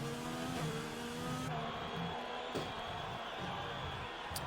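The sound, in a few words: McLaren F1 car sliding and re-accelerating, from a racing video game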